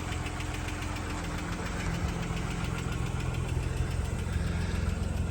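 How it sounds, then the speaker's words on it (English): Idling 170 cubic inch straight-six engine in a 1963 Mercury Comet Custom sedan, a steady, even mechanical hum with a light rapid ticking, heard close and alone. "That little 170 cubic inch straight six."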